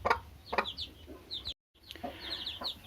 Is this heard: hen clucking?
yes